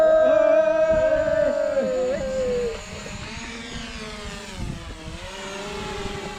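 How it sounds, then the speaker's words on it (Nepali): A small camera drone lifts off at sunset on a Tare Bhir outing in spring, its rotors giving a loud, steady high whine that drops in pitch and fades as it climbs away, with faint wind and voices in the background. "हामी ड्रोन उडाउन हतारियौं।"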